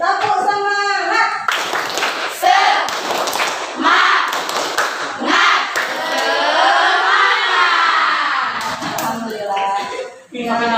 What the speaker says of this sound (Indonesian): sekarang kita tepuk semangat supaya menambah semangat kita ya sebelum kita akhiri